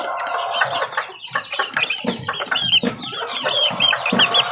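Kelso Gilmore and asil gamefowl roosters cluck and squawk close by, a busy flock of overlapping calls continuing without pause.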